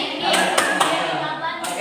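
Hands clap together in a children's mosquito-clapping game, with several sharp claps spaced over a couple of seconds and voices faintly behind them.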